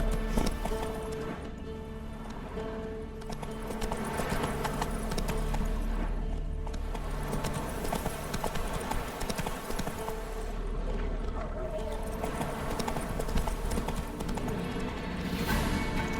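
Roach the horse galloping in the video game The Witcher 3: Wild Hunt, a steady, dense clip-clop of hooves running continuously under a loud layered game soundscape with music-like tones, close and sustained throughout.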